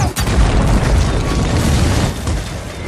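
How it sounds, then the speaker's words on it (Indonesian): A helicopter crashes and explodes in the film No Escape (2015): a loud, close boom bursts out and rolls into a dense, sustained roar of debris and rumble. "Helikopter itu terjatuh dan meledak."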